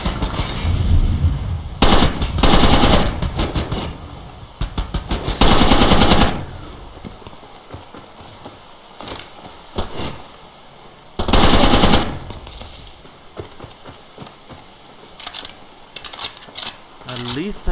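Bursts of heavy .50 caliber vehicle-mounted machine gun fire from Far Cry 2, loud and close, coming in several sustained rapid strings of shots separated by quieter game ambience.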